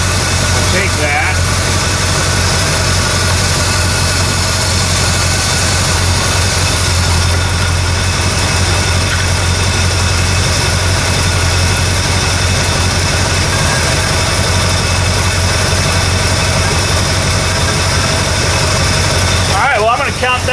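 Oldsmobile 442 engine idling at about 800 RPM with the air conditioning running, a steady loud low rumble that holds unchanged throughout.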